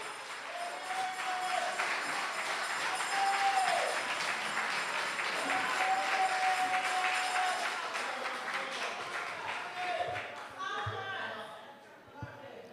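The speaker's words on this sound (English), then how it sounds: "You finished clapping?" An audience at a community consultation applauds after a political speech, a steady dense clapping that holds for about ten seconds before thinning out. A voice is heard over the applause.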